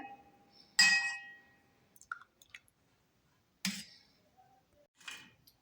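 Tomato soup served into a cup, with sharp glassy clinks of a spoon or ladle against the cup, two main strikes a few seconds apart, plus small drips and taps in between, close and clear.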